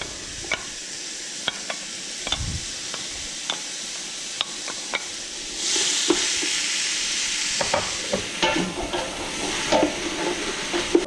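Onion and carrots browning in a pot for a fava bean soup, with a constant close sizzle under intermittent spoon taps and scrapes, growing a bit louder and hissier midway; no speech.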